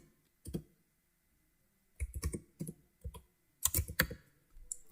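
Bursts of keystrokes on a computer keyboard as a phone number is entered, clustered clicks separated by short pauses, close and fairly clear with no talking.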